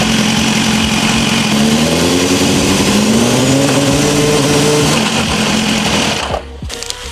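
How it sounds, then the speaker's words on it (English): A BMW S1000RR sport motorcycle engine runs loud and close, its pitch rising steadily as the revs climb, then the engine cuts out abruptly near the end. "Let's turn the bike on."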